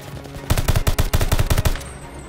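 Rapid automatic gunfire from a weapon in the video game Call of Duty Vanguard, about a dozen loud, evenly spaced shots in a quick burst that stops abruptly.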